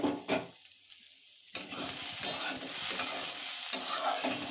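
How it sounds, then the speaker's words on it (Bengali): A small potato and pea curry being stirred in a hot pan, with a steady sizzle and the rough scrape of a spoon. A brief quieter pause comes before the frying noise returns fully. "আলু আর মটর দিয়ে একটা ছোট্টখাটো তরকারি করা হচ্ছে"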